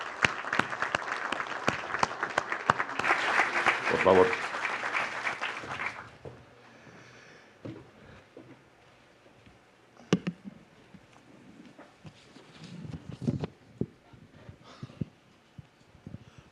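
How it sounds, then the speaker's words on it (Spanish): An audience claps at a telecommunications policy keynote, with dense applause for about six seconds that then fades. A few scattered sounds and brief Spanish speech follow. "Un aplauso."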